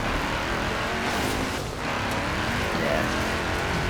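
Audi RS6 engine in Forza Horizon, a continuous loud broadband roar of the car driving, steady throughout with a slight dip midway.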